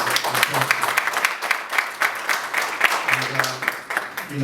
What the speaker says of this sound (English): Let's give Caesar some round of applause.